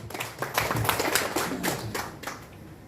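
A small group claps to welcome a speaker to the microphone at a Janta Express news channel event, with distinct, fairly quiet claps that thin out toward the end.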